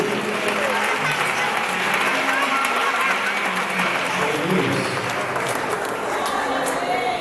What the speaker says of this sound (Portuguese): Então aplaude